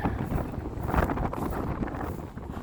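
Cold wind gusts outdoors beside a lake, buffeting the microphone with a constant low roaring rumble and uneven surges throughout.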